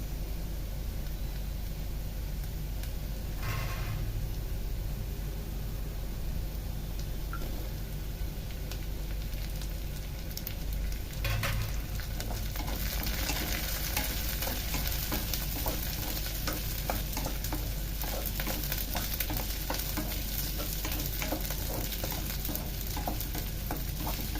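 Layered onions fry in a hot pan alongside browning potato balls, a loud continuous sizzle with intermittent stirring scrapes and clatter of a spoon against the pan throughout.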